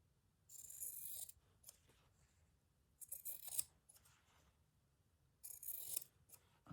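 Scissors snipping through fabric strips for a shabby chic rice bag tote, three separate bursts of crisp close cutting with quiet pauses between, no talking.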